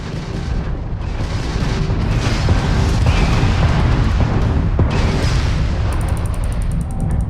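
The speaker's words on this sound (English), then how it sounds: "If you can keep the enemy ship centered on the HUD, we can lock in to fire a homing missile." A homing missile fires at an enemy ship during a Starfield space battle, a loud, dense roar of explosive blasts and rumbling booms that runs steadily throughout with no talk.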